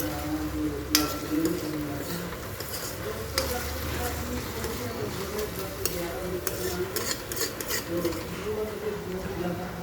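Pasta with added tomatoes is stirred in a hot pan, with a steady sizzle and scraping spoon strokes near and moderately loud.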